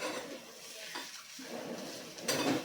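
Grated sweet potato mixed with chopped coriander in a pan after the heat is turned off: a short run of soft scraping and spatula clinks against the metal, close but quiet, with no talking.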